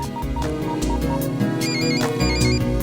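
A mobile phone ringtone plays loudly and continuously as a bright electronic melody with repeating tones, heard alone during a scene in a Hindi-dubbed comedy film.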